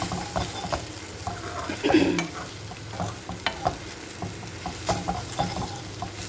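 Okra (bhindi) fry stirred in a pan, with repeated close scrapes and knocks of a utensil against the pan over a low sizzle, one louder scrape near the start.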